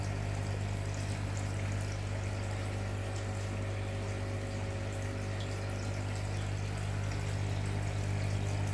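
Steady water trickles and splashes through a three-chamber gutter-style filter on an arowana tank, a continuous even wash with a constant low pump hum beneath, unbroken and close.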